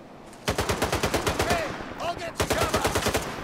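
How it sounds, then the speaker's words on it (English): Monolith soldiers shooting guns in Stalker 2, with close, loud automatic fire in fast strings of shots, a short lull around the middle, then another rapid burst. "Looks like there's a couple of monolithians here shooting something now."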